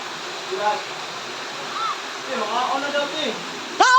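Water flows steadily in a rushing wash near a cave, while people talk over it.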